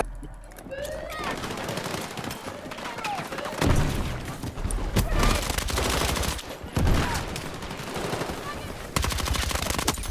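Rapid bursts of game gunfire, automatic volleys and single shots, crackle throughout over a busy battle soundscape, with people talking over it.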